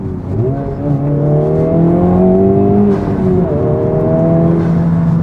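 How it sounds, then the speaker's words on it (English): A Honda Civic Type-R with a full exhaust in R mode revs and pulls away, a loud, steady engine drone rising and falling in pitch up close, with no one talking. "the fake engine sounds are kind of masked by the real sounds that the exhaust is making"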